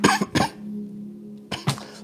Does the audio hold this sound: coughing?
yes